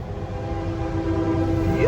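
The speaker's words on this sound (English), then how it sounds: "a train's getting ready to come through" An approaching CSX freight train rumbles nearby, by the Amtrak depot in Denmark, South Carolina, with a sustained horn tone held throughout, the low rolling noise growing slightly louder toward the end.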